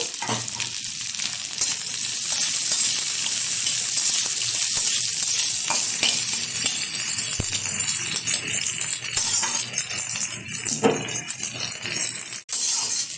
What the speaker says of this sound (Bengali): এখন এই তেলে দিয়ে দেবো কিছুটা কুচিয়ে রাখা পেঁয়াজ। এটাও সুন্দরভাবে ভেজে নেব।